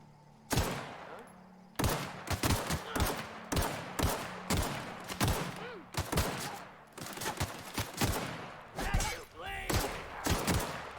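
Rapid volleys of loud gunfire in The Outer Worlds, with sharp repeated shots in clustered bursts across the whole span and short pauses between them.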